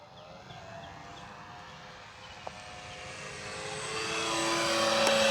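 A Dancing Wings Fi 186 Storch radio-controlled model plane with a 1.6 m wingspan flying on its maiden flight, its steady engine drone growing louder and higher as it approaches overhead, with no talking.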